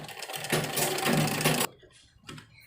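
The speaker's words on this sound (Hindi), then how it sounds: "इसको रख के ये सिलाई करेंगे हम इसके ऊपर" A sewing machine stitches piping onto a sleeve in a short, fast whirring burst of about a second, then stops, followed by a brief quieter sound.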